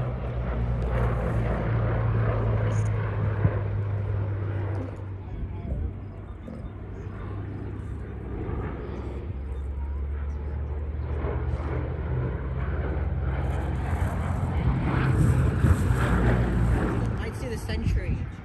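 Fixed-wing airplane flying at the AERO Gatineau-Ottawa airshow practice show, a steady loud engine drone that swells and recedes across the clip, with a low propeller-like hum and crowd or commentary voices underneath.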